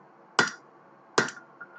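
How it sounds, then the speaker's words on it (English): A hammer taps on hot steel during forging a hammer eye, giving two crisp, ringing metallic strikes about a second apart and then a faint lighter tap, each with a short ring-out in a quiet space. "I'm kind of doing a little bit more of a precision tapping"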